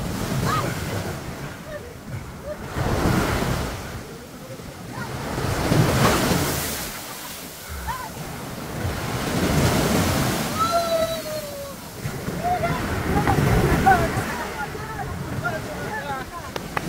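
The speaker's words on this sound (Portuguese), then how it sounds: "Da cachoeira pro mar. E que mar!" Sea waves wash onto the shore in broad, repeated swells, loud and close, with wind buffeting the microphone and a few voices speaking faintly in the background.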